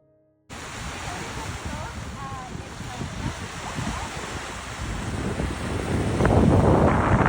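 Waves wash in steadily on a sandy Lake Michigan beach, a broad continuous surf rush with wind buffeting the microphone, growing louder toward the end.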